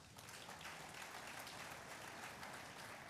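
Dense applause from a conference audience in Nigeria, a steady wash of many hands clapping at once, sustained at even loudness for a few seconds.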